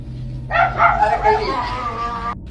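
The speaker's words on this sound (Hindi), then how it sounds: "कुत्ते और जानवर चिल्लाना भौंकना शुरू कर दिया।" Dogs bark and yelp, with whining and howling mixed in, in one sustained outburst about two seconds long at moderate distance. Other animals may be calling under the barking.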